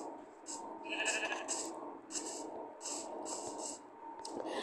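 A black sheep in the Minecraft video game gives several nasal bleats in short bursts, a few rising calls clearly heard over a light background hiss.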